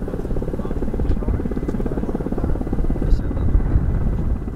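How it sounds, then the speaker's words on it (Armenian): A military helicopter carrying the armed forces commander flies over Artsakh. Its rotor beats in a loud, steady, rapid chop throughout. "Զինված ուժերի գերագույն գլխավոր հրամանատարի ուղղաթիռը թռչում է ազատ Արցախի օդային տարածքով"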